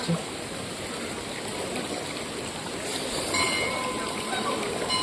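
Spring water flowing out from beneath a temple near the Amboli waterfalls, a steady broadband rush and trickle continuing throughout at close range, with faint background activity.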